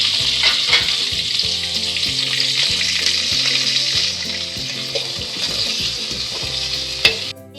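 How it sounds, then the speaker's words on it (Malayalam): Okra sautés in coconut oil for Onam-style sambar, a loud continuous sizzle with repeated stirring clatters of a spoon against the pan, ending in a sharp knock. "വെണ്ടക്ക നമുക്കൊന്ന് വഴറ്റിയെടുക്കാം വെളിച്ചെണ്ണയിൽ"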